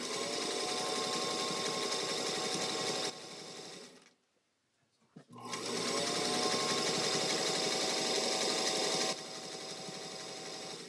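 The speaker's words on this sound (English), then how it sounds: "It is good mindless sewing, Natalie" A sewing machine stitching in long, loud, rapid runs, pausing briefly for about a second before resuming at a steady fast pace, close by with no talking.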